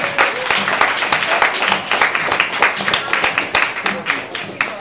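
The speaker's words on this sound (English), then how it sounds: "Round of applause for all our contestants," An indoor audience at an awards event applauds contestants, with dense, steady clapping that runs throughout and swells in waves.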